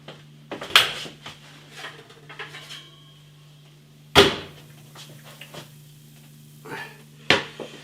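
Hula Hoops on a baking tray coming out of a hot oven, with a few sharp metallic clatters of the tray and oven rack spaced apart over a steady low hum, plus quieter handling clinks between them.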